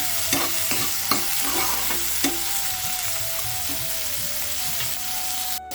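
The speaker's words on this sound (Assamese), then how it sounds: "এইখিনি এতিয়া ভালকৈ ভাজি ল'ম" Onion and chillies fry in a pan with a steady hiss and irregular stirring taps, a faint tonal hum running beneath, no voices.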